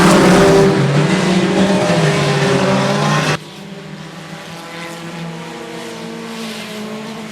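Race cars roaring around the 105 Speedway dirt track, a loud, dense engine drone that drops suddenly partway through to a steadier, more distant rumble of the pack.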